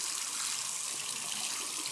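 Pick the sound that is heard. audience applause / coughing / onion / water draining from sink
water draining from sink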